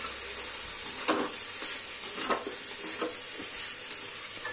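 Winter vegetables with turmeric sizzle steadily in a frying pan while a utensil stirs and scrapes in short, irregular bursts, close and moderately loud, with no voices.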